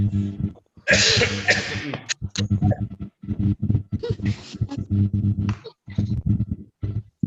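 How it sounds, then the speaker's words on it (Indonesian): Several harsh coughs and throat-clearing bursts, close and loud, mixed with heavy breathing and voiced grunts. "Dulu Bapak batuk dulu."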